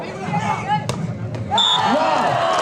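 A volleyball smash lands during a semifinal match: one sharp slap of hand on ball, then a swelling crowd roar with a commentator speaking over the noise.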